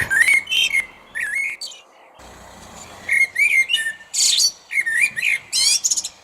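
Clear, fluting blackbird song in repeated short melodic phrases with brief pauses, bright and fairly close, a few chirps mixed in.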